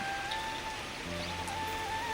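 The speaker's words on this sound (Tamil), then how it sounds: "மழை பெய்யுது" Steady rain falls outside a newly bought house, a soft, even patter of drops filling the short stretch with no voices over it.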